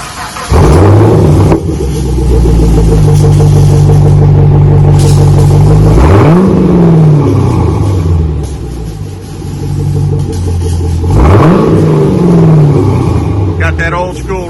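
A 2014 Chevrolet Camaro V8 with V-tube mufflers rumbles deeply up close, with several throttle blips rising and falling over a steady muffled burble and a brief voice near the end.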